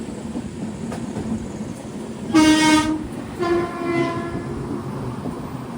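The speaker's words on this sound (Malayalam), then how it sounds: "ട്രെയിനിപ്പോൾ ഒറ്റപ്പാലം റെയിൽവേ സ്റ്റേഷനിലേക്ക് എത്തുകയാണ്" An Ernakulam–Bengaluru Express sleeper train runs at night toward Ottapalam station in Kerala, its steady close rumble broken by two loud horn blasts in quick succession.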